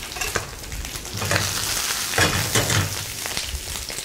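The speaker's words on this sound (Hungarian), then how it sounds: "Hal először a bőrös felén fog sülni." Fish fries skin side down in a pan, giving a steady crackling sizzle with bursts of spitting and some stirring noises. It stays fairly close and is heard alone, with no talk.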